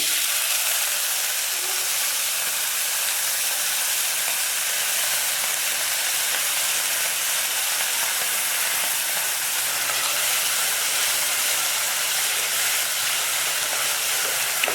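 Constant loud sizzling of biryani paste frying in a hot pan, a bright hissing texture that holds steady the whole time.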